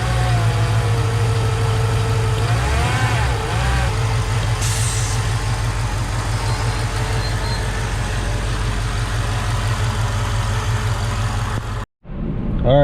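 A Mercedes E55 AMG with its supercharged M113K engine runs at a steady, loud idle nearby, a low continuous rumble with a brief swell of revs early on before cutting off near the end.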